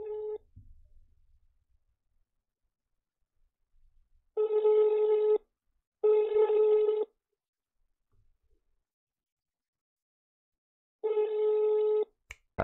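A phone call to a Vodafone voicemail line: a few short tones at the start, then three clean, loud ringback tones of about a second each, separated by long silent gaps, with no voices.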